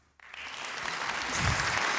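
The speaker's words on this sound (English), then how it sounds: "The clapping's always for me" A crowd bursts into applause after a moment of quiet, and the clapping quickly builds into a dense, sustained patter that grows slightly louder toward the end.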